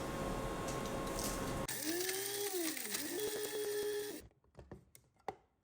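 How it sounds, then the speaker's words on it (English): An electric spice grinder whirs loudly through toasted mustard seeds, pasilla chili and chipotle powder, its motor pitch dipping and rising before cutting off into quieter clatter. "All that's left to do is grind them up in a spice grinder, along with our toasted pasilla chili and about a teaspoon of our chipotle powder."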